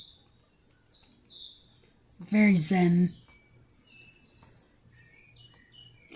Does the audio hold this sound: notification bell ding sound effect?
no